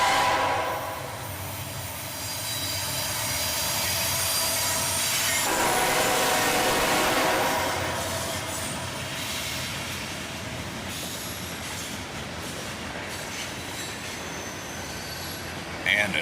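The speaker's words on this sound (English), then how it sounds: "the tail end of this train passes by" A Norfolk Southern freight train rolls past nearby, a steady loud rumble of wheels and railcars with squealing flanges, the tail end passing and the noise easing toward the close.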